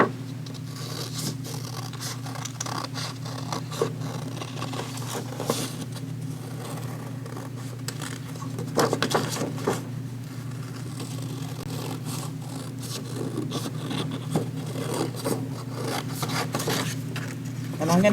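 Scissors cut a handprint shape out of paper for a first-grade art project, giving a steady run of soft snips and rustling paper over a constant low room hum.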